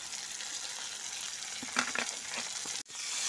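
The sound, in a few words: tomato, capsicum and spring onion frying in a pan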